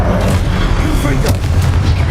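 A Confringo blasting spell in Hogwarts Legacy bursts with heavy, loud booming explosions that rumble deeply throughout, with a voice shouting over the blasts.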